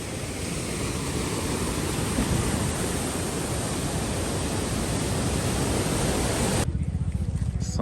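Steady roar of a waterfall heard from its base in Doi Inthanon National Park, Thailand, a dense broadband wash of falling water that stays loud and unbroken, with the upper hiss cutting out near the end.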